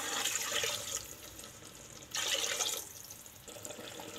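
Water runs into a cooker for chicken biryani, a faint splashing pour in two or three bursts with short pauses between them, heard alone in a quiet kitchen.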